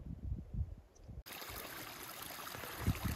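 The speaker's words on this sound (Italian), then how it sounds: "Praticamente il sentiero è un fiume." Water rushing and trickling close by along a flooded hiking trail on Sweden's Kungsleden, a continuous bright splashing flow that grows louder after a brief muffled, quieter opening.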